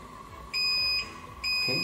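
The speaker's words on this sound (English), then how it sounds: "when it's finished, you will hear a beep sound to notice you it's finished." Two electronic beeps from a Shining3D FabCure curing machine signalling the cycle has finished, each a steady high-pitched tone lasting about half a second, separated by a short pause over a low machine hum.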